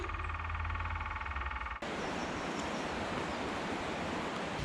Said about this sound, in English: You can hear the sound of cascading water. We might be near the Falls of Lenny.